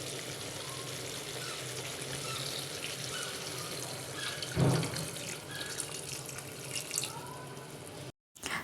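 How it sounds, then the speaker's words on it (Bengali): Hot water is poured into a pot of simmering duck curry, a continuous watery rush that runs steadily for several seconds with a brief clunk partway through. "দেখো আমি মাংসে কিন্তু গরম জল দিয়ে দিয়েছি যতটুকু আমি ঝোল রাখবো সেই বুঝে আমি জলটা দিয়ে দিয়েছি"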